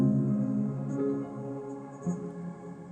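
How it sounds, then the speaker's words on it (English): Strummed piano chord pitched up an octave, with the notes rolled in quick succession, sounding as a bright, sustained harmonic wash at moderate level with a second soft re-strike about two seconds in; no talking. "I'll do this little strummed chord thing at the end or before a chord starts"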